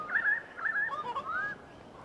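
Parrots in the snowy Australian Alps in winter give a short series of bright, rising and falling whistled calls. They sound close, over a steady outdoor hiss.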